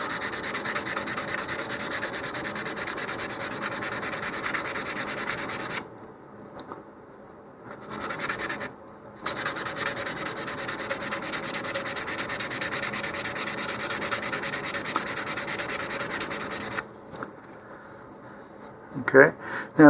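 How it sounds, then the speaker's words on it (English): Model rocket seams, Mach1 Razer-50 kit, being sanded by hand with 220 grit sandpaper in steady close rasping strokes, broken by two short pauses and ending in a quieter stretch. "So first of all, just sand the seams."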